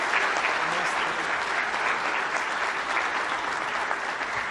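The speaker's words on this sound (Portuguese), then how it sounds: "uma salva de palmas aí pro Galvão mais uma vez" Audience applause at the PHP Day Curitiba 2018 conference for Galvão: a dense, steady wash of clapping from a sizable crowd, loud and sustained throughout with no pauses.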